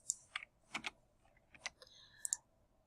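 Someone types on a computer keyboard, making a handful of soft, scattered key clicks in short uneven bursts over a quiet background.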